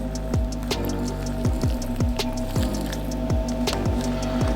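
Water is poured onto homemade wax sand for trapping, giving a steady trickling, bubbling flow with repeated gurgling pulses, close and continuous.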